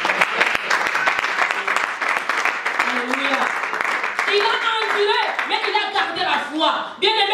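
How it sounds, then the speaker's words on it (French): A church congregation claps loudly and continuously during a Christmas Eve thanksgiving sermon, and voices shout and cheer over the applause toward the end. "Applaudissons très fort."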